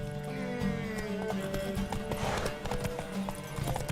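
Hooves clip-clop rapidly as a horse gallops in The Witcher 3, with a whinny and scattered game sounds layered over it, loud and close.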